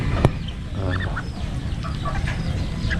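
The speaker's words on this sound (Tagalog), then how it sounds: "Pato." Ducks quacking and honking as they are fed leftover rice, with several overlapping calls over a steady, busy outdoor background.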